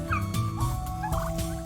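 Young turkeys in a flock heading back inside gobble in quick, close bursts, several birds overlapping in a short burst of warbling calls.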